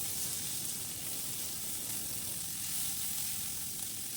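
Onions sautéing in oil for a Malayalam-style beetroot side dish, a steady soft sizzle and hiss held at an even level throughout, close and continuous with no voices.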